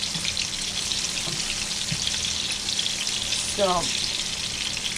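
Very ripe fruit slices frying in a pan until golden, a constant even hiss of hot oil, with a single brief voice near the end.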